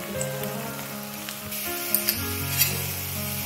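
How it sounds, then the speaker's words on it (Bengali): Kofta balls for dahi kofta fry in hot oil, browning on both sides, with a continuous bubbling sizzle, a few sharp spits and crackles, and low background hum; no one speaks. "আমি সমস্ত বলগুলো দু পিঠ একদম লাল লাল করে ভেজে নেব"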